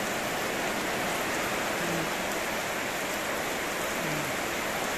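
Rain falls steadily on a fruit orchard with a lemon tree in Manipur, a dense even hiss of drops on leaves and ground, close and unbroken, with no talk.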